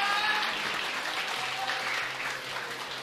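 A crowd at a Hamamatsu auto race awards ceremony applauds steadily, a dense wash of clapping that holds at an even level throughout.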